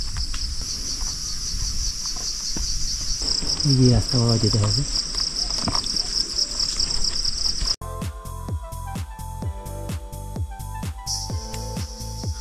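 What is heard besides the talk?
cricket-like insects calling on a forest trail in Nepal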